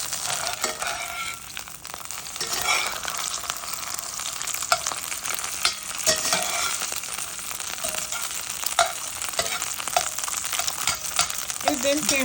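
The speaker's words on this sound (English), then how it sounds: "we're going to just fry it and then let it finish" Eggs fry in a pan with a steady, close crackling sizzle. Occasional stirring or scraping clicks come through the sizzle, and no one speaks.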